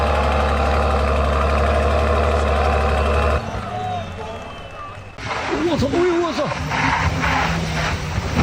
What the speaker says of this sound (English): Black smoke coming from the diesel engine.